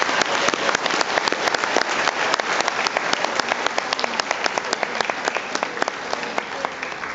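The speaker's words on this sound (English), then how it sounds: "Please join me once more in a round of applause for Mr. Kaz." Loud, sustained applause from a large audience at an awards ceremony during a conference in Auckland, with dense clapping that continues steadily throughout.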